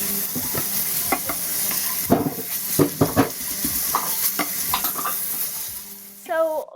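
Onions braise and sizzle in a stew pot while a utensil stirs them in repeated scraping strokes, with a steady frying hiss underneath, close and moderately loud.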